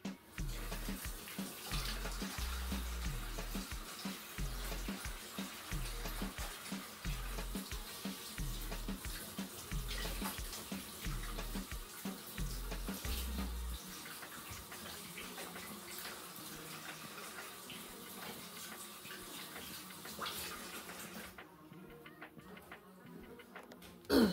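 Running tap water pours steadily for a quick wash in a home kitchen while baking gingerbread cookies, with a low rhythmic thumping under the first half before the flow settles to a softer, even stream.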